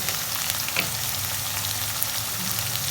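Ginger and garlic paste frying in oil for a duck curry, a dense, steady close sizzle with faint stirring, no voices.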